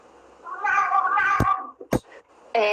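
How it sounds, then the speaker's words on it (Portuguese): A house cat meows up close, one drawn-out loud meow followed by a couple of short clipped sounds and another meow starting at the end. "meu gato."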